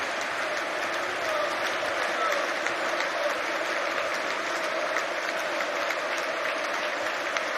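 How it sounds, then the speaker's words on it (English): A stadium crowd at Chelsea FC's championship trophy celebrations cheers and applauds steadily for assistant coach Steve Holland, a dense, continuous wash of clapping and roaring that holds at an even level throughout. "Special cheer for Steve Holland."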